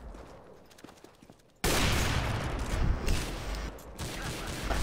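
Dense, sustained gunfire in the CS:GO video game, erupting suddenly after a quieter stretch and staying loud and continuous, with a couple of brief high electronic tones over the shooting.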